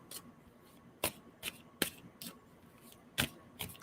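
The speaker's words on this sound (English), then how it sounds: "I'm going to stop shuffling on that." Tarot cards are shuffled by hand at close range, giving a series of sharp riffling bursts at uneven intervals with quiet pauses between them.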